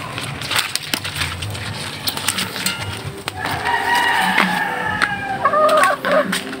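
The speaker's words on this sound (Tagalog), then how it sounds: "Yun yung alaga nating makukulit na manok." Pet chickens cluck and call close by in a rural yard, a run of rising clucks and a short crow-like cry toward the end, over rustling and crunching sounds.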